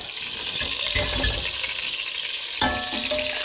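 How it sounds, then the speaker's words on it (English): Pork and its juices go back into a hot pot with a loud, close burst of sizzling and splashing, then continuing frying hiss and stirring, followed by a second sharp sizzle. "Now all the pork goes back in the pot,"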